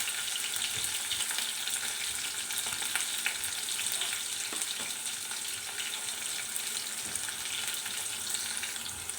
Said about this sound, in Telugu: ఆనియన్స్, మిర్చి వేసుకోవాలి ఆయిల్లో. అవి కూడా ఫ్రై కావాలి మంచిగా.